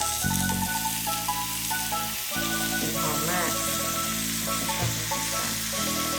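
Steady sizzling of ham frying in butter in a pan continues under soft background music, with occasional stirring sounds.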